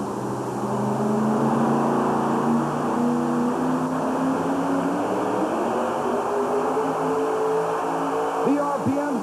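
The original Blue Max truck with its 600 cubic inch Ford engine roars through a truck pull at a 1991 USHRA event in Tallahassee, its engine note rising steadily, loud and continuous over crowd noise.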